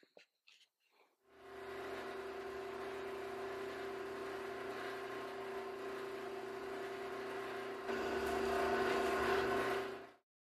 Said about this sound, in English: Now to drilling those holes.